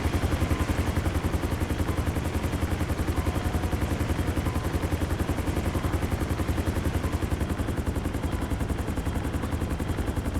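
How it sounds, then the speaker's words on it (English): Huey-style Valkyrie helicopter in GTA 5, its rotor blades chopping in a fast, steady rhythmic thump that runs throughout, loud and continuous with no talk. "The name Chopper came from the chop chop sound of the helicopter blades"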